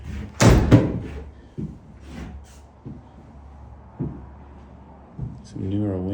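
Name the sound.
door of a house being opened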